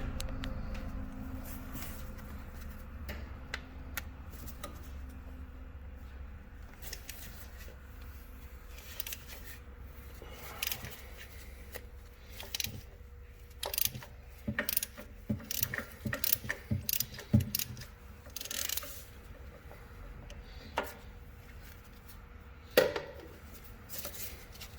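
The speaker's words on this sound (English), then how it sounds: "we have a 1-inch socket with an extension, and we're just gonna thread that sender out." A ratchet fitted with a 1-inch socket and extension works an oil pressure sender loose on a 1965 Ford Mustang Fastback, giving bursts of close, quiet clicking and clacking that grow busier toward the end over low background hum.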